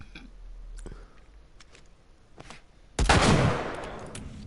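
A gun fires in The Last of Us Remastered: one sharp, loud shot that cuts through quiet game ambience and then fades out in a roaring decay.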